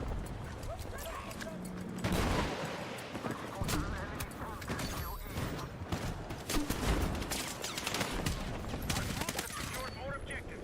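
Light machine gun fire in the shooter game Battlefield 6, dense bursts of rapid shots and distant gunfire crackling continuously, with voices talking over the combat.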